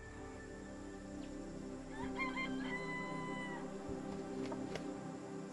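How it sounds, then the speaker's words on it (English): Jungle fowl, wild relatives of chickens living in Singapore, call outdoors with a few clucking, crowing notes over steady background noise and no talk. "Those birds over there, they are the jungle fowl."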